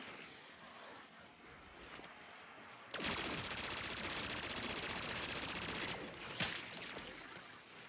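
Sustained burst of AK74 automatic fire tearing through a zombie horde in Black Ops 6, loud, dense and continuous for about three seconds, with quieter game sounds before and after.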